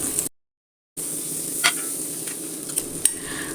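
Butter sizzles in a pan while masala dosa with chilli garlic sauce is made: a quiet, steady crackle broken by a brief gap and a few sharp ticks.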